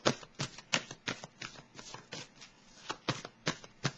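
Tarot cards being shuffled and handled, a steady series of crisp riffling snaps about every third of a second, close and clear with no talk over it.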